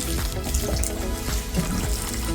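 Water is poured steadily into a plant container to soak the soil, a close, continuous splashing gush with no talking.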